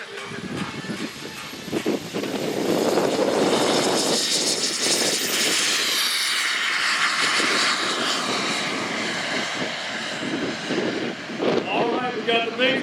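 Radio-controlled model MiG jets flying at the Joe Nall airshow make a loud, continuous turbine roar that builds and sweeps past, with crowd talk and announcer speech underneath.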